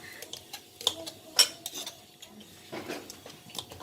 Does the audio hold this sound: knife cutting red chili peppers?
yes